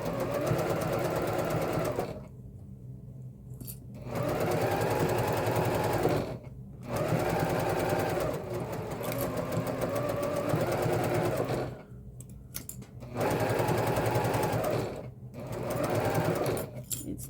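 A sewing machine stitches mesh pocket fabric for a messenger bag, running in long steady whirring bursts separated by brief pauses, loud and close throughout.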